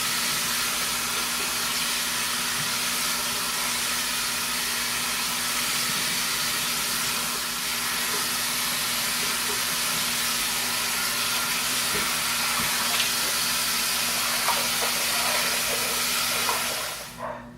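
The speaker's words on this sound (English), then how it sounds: "So I just soak them, kind of rinse them off and then soak them in cold water warm water for a few moments." Water runs and splashes as linen clerical collars are rinsed and soaked, a steady broadband rushing hiss that continues unbroken until it tapers off at the very end.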